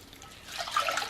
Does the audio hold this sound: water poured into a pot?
yes